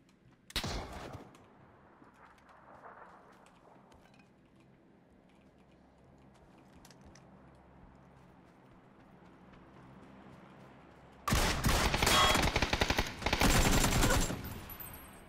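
Shotgun gunfire in a video game: one sharp blast near the start, then a long, loud barrage of shots and blasts over the last few seconds after a quieter stretch.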